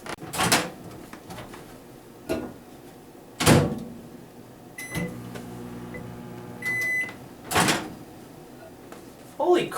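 Microwave oven heating a frozen hot dog, with door clunks and bursts of beeps, a steady low hum between them, and a voice heard briefly.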